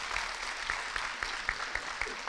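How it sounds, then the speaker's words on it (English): Audience applause for dignitaries, including the mayor and vice mayor, at a city fire department awards and recognition ceremony: a steady, fairly soft wash of clapping with scattered sharper claps, heard alone. "please, round of applause"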